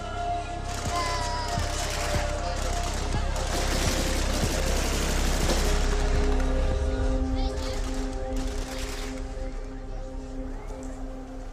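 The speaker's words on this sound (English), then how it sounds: "complete with lots of celebratory gunfire" Celebratory gunfire crackles in scattered bursts and rapid volleys, some shots closer and sharper, over a constant rumble of background noise.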